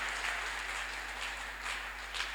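Church congregation at a Sunday service claps hands together, a faint, steady wash of applause heard from a distance with a low hum underneath and no talking.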